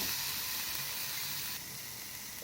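Vathal kuzhambu, a tamarind curry, bubbles and simmers toward a boil in a pan, a steady close hiss that drops slightly in level partway through, with no talking.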